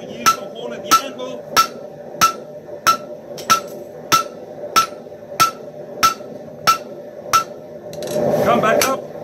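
Steady hammer blows on steel over the horn of an anvil, drawing out metal while forging a herb cutter; about a dozen sharp, evenly spaced ringing strikes, close and loud, ending in a brief scraping rasp.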